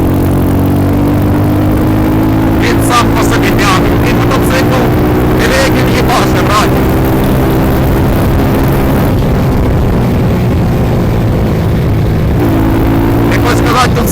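A Geo-Minsk motorcycle engine hums steadily at close range during an evening ride, a low droning whir with faint shifting tones and some background rustle throughout.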